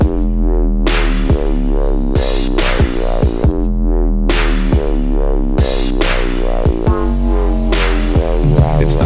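Sun vibrations captured by NASA's Solar Dynamics Observatory, forty days sped up into seconds, come through as a loud throbbing drone with repeated bursts and sharp downward-sweeping chirps.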